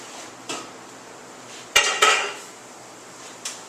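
Glass canning jars of pickled cucumbers and carrots are set onto a metal canning rack, making a few sharp clinks and knocks, with a quick pair of impacts in the middle.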